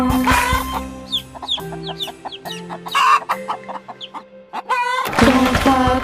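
Hens cluck in a quick series of short, bright calls over the melodic, rhythmic backing of a children's song.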